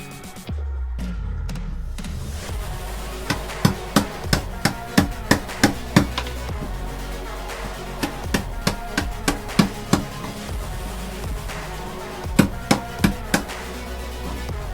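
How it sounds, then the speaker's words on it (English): Chisel and hammer strikes chip away delaminated fiberglass, filler and rotten stringers on a retired IOR racing boat hull, a series of sharp, close knocks in uneven rhythm over a steady low background hum, with no talk. "we could proceed to chisel away all the delaminated fiberglass"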